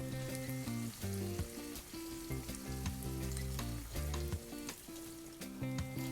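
Chicken in black bean sauce sizzles steadily in a pot as it is stirred, under loud background music with a bass line that carries through.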